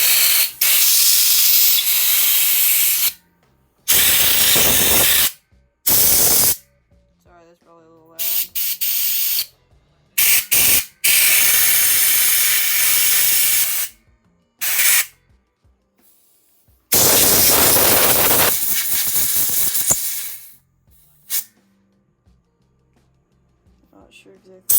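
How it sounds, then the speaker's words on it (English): Loud bursts of compressed air hiss and spray while cleaning a 1999 Yamaha Razz motorcycle carburetor, coming in repeated blasts of a few seconds each with short quiet gaps between them. "get the air compressor and blow stuff out real quick"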